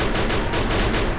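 A dense burst of rapid gunfire from the video game Free Fire, loud and continuous, filling the whole short moment with no voices over it.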